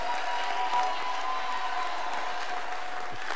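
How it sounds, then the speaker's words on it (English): Church congregation clapping hands steadily, a dense continuous wash of applause from a crowd filling the room throughout. "Keep on clapping."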